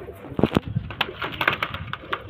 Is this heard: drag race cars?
no